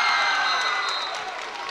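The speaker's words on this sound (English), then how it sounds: "the crowd exploded after the Hamilton free throw that was made" Basketball crowd noise after a made Hamilton free throw at a men's reserve high school game against Northwest: a dense, steady roar of cheering and clapping from a packed gym, loud and sustained, easing slightly toward the end.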